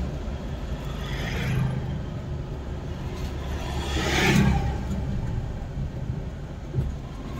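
A car engine hums and revs up gradually during a hill start on an incline, a steady close drone that swells in the middle and then eases off.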